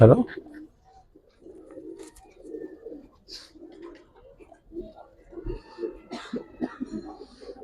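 Giribaz pigeons give soft, low coos in short bursts at a pigeon sale, mixed with nearby talking and a cough.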